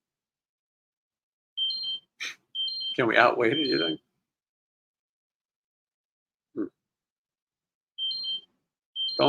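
A high electronic alarm beeps in short paired bursts, going off several times in a quiet room while someone speaks briefly between the beeps.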